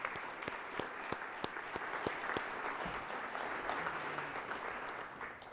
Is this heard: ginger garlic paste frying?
no